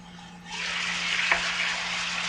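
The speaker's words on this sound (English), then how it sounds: "Get that sauteing in there." Porkless bites sizzle in a pan, a bright steady hiss of sauteing that swells up after a quiet start and holds, with a faint low hum underneath.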